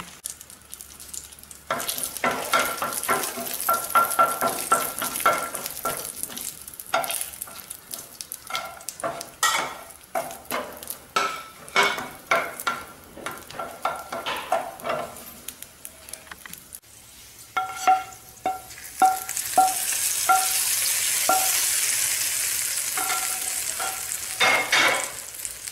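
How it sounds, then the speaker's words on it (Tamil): Cashew nuts fry in ghee in a pan for broken wheat rava payasam, with a steady sizzle. A spoon stirs and scrapes the pan in repeated close strokes, and the sizzle swells louder near the end. "கொஞ்சம் முந்திரி பருப்பு ப்ரௌனாக வரட்டும்."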